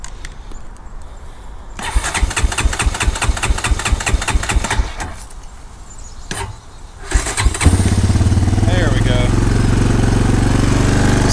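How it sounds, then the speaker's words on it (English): A cold Honda 250ex ATV with a weak, undercharged battery is cranked on choke: a long stretch of rapid starter churning, a pause, another short crank, then the small single engine catches and settles into a loud, steady, rough idle up close. "So with the choke, we got her to start."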